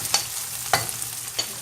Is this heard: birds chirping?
no